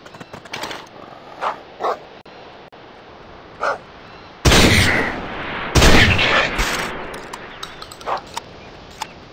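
Hunting dogs in the video game Deer Hunter 2018, in its Australian region, let out short barks at scattered intervals, broken by two loud, sharp gunshot blasts midway through.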